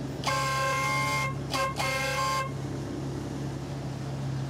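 Car horn honking on a road in Indonesian Borneo, one long blast followed by two quick toots, loud and close over steady traffic rumble.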